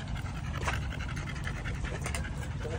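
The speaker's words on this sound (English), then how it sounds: "Hella damn dogs out here, man." Several dogs pant close by in quick, rhythmic huffing breaths, steady and fairly loud throughout the short stretch, with no talking over them.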